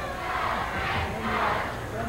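A professional wrestling crowd in an arena chants together as a sustained, roaring mass of voices, with a commentator's voice running over it.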